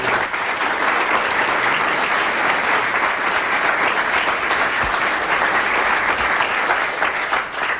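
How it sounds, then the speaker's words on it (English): An audience claps in sustained, dense applause at a stock-market investing panel, a loud, steady roar of many hands with no pause and no speech. "let's give them a round of applause for this."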